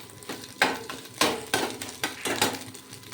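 Scrambled egg fries in a pan with a steady sizzle, repeatedly interrupted by rhythmic scraping and tapping of a spatula against the metal, about six strokes in quick succession.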